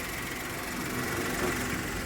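The engine of a 2011 Maruti WagonR car runs steadily at a smooth idle, an even, continuous hum heard up close without any talking.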